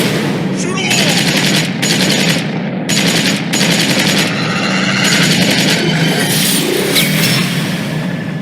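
Bursts of automatic gunfire in the video game Tales From The Borderlands, several loud rattling volleys a second or so each, separated by short gaps over a constant busy background din.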